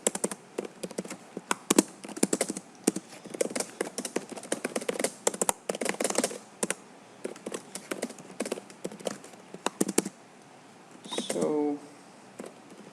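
Someone types on a computer keyboard, producing quick irregular clusters of clicky keystrokes close by, with short pauses between bursts and a brief different noise near the end.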